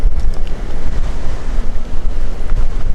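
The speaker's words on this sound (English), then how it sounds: "Fighting the wind, which is getting ferocious." Ferocious wind batters a climber on a steep mountain ascent, a loud, continuous roaring buffet with heavy low-end rumble from gusts striking the microphone.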